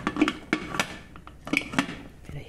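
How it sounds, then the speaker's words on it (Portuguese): A metal pressure cooker and pots are set down and handled in a home kitchen, giving a series of sharp clanks and knocks at an uneven rhythm, close and moderately loud, with no talking. "Vou colocar na pressão pra cozinhar."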